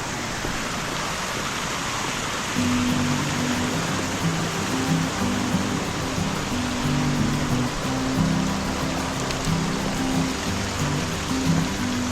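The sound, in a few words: waterfall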